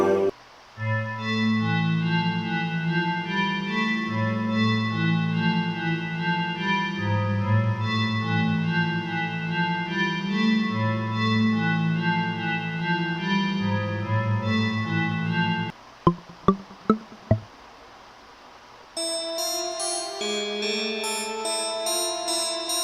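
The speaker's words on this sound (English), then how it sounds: "The very trappy bells." Trap-style bell synth presets in Reason 9 music software, a sustained layered melody with bass notes looping, broken by a few sharp clicks as presets switch, then a brighter bell tone.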